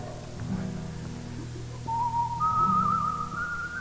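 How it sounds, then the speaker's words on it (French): A parrot whistles a sustained, clear tone that rises partway through and holds steady, heard close and alone over a low background hum. "dès que votre perroquet se met à siffler, vous nous prévenez"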